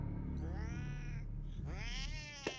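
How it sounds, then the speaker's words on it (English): Cats meowing in the South Park The Fractured But Whole video game, two long drawn-out meows one after another with a brief click near the end, fairly quiet and with no talk over them. "Oh, the cats again."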